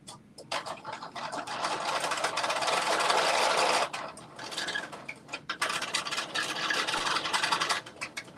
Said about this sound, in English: So 3/8 of an inch is what I'm going to sew.